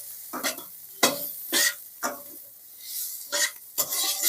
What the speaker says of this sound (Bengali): হালকা করে ভাজবো যাতে এটা পুড়ে না যায়।